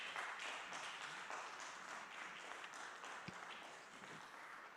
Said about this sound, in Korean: 들어가실 때까지 계속 박수해 주세요